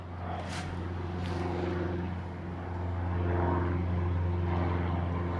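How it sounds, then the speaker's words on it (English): A 1946 de Havilland Beaver propeller plane drones overhead with a steady, buzzing engine hum that swells and eases slightly as it passes, moderately loud and alone. "Beaver plane going overhead."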